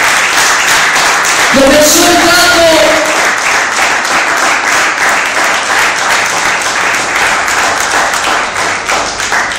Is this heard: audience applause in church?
yes